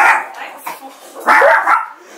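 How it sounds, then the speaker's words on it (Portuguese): A dog barks in several loud, close bursts, with a short gap between the first group and a second louder cluster, during a gaming livestream. "esse daí foi meu cachorro"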